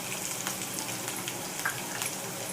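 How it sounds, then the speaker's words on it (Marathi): Onion frying in hot oil with garlic and curry leaves, a close, bright, steady sizzle with faint stirring scrapes, no speech over it. "कांदा थोडासा परतू देते, जसं की आपण इतर भाज्यांना कांदा परततो तेलात चांगला, तसा परतू द्यायचा."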